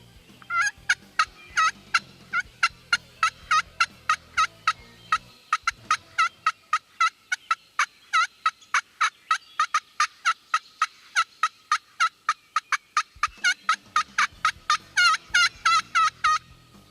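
A wild turkey gobbler sounds off in a long series of sharp, rapid, evenly spaced gobbling calls, loud and fairly close, with no talk over them.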